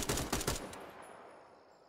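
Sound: M4 rifle gunfire in video game Incursion Red River

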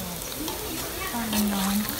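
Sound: mushrooms in batter frying in hot oil

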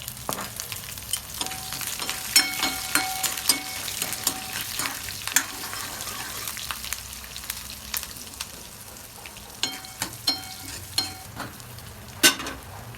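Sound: frying peanuts, curry leaves and chillies for batata pohe

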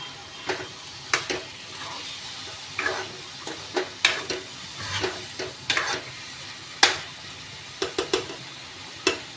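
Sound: marinated pomfret fish frying and stirred in pan

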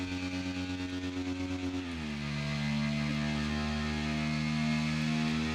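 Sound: riding a new motorcycle

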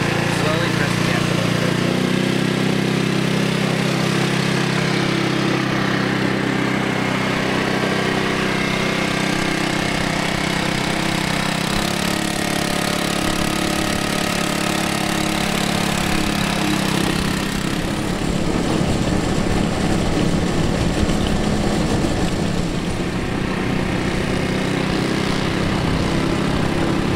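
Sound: car engine accelerating as driver presses the gas

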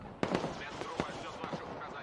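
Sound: artillery firing in the video game Broken Arrow

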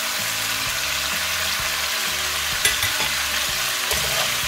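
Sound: chicken frying in oil in a wok

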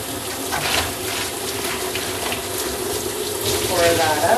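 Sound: hot water running from tap to rinse a bucket

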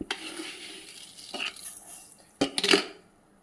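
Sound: stirring sugar in a dry pan for pudding caramel

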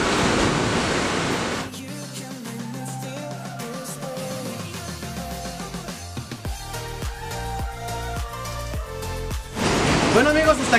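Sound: sea waves crashing against rocks on a beach

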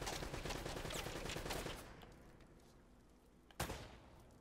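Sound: enemy gunfire in video game Uncharted: Drake's Fortune

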